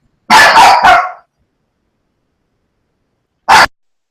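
A dog lets out a quick run of three loud, close barks, then falls silent before one more sharp bark a few seconds later.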